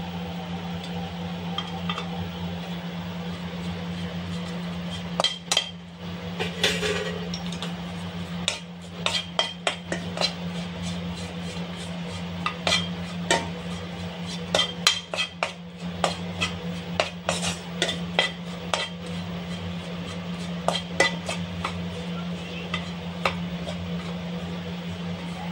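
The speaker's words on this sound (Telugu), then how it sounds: "చింతపండును కూడా వేపుతా ఉన్నాను ఫ్రెండ్స్." Tamarind roasting in a pan for mint powder gives a steady low hum under frequent sharp clinks and scrapes of a utensil against the pan, close and fairly busy throughout, with no talking.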